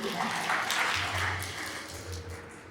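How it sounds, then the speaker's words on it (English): Conference audience at a corporate event breaks into applause, a steady broad patter of many hands lasting a couple of seconds before gradually tapering off. "Can we have another applause this side, please?"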